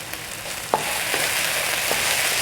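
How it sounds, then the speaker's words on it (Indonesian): Serundeng being stirred in a pan with palm sugar and tamarind water, a steady close frying hiss with a few soft scraping strokes of the spatula, no talking. "Aduk dulu ya, takut keburu gosong."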